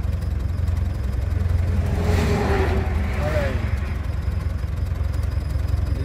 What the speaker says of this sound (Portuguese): O barulho dos caminhões aí é forte, olha aí, ó.